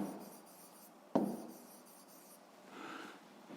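A pen writing out a sixth-grade math solution by hand, faint scratchy strokes close by in a quiet room, with one sharper tap partway through and a soft rubbing stretch near the end.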